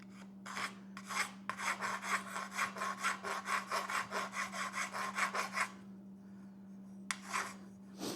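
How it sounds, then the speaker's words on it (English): A metal file rasps in quick repeated strokes across the sharp score marks on a handle, a rhythmic run of close, scratchy passes that pauses briefly before a couple more strokes near the end. "So I'm filing those down."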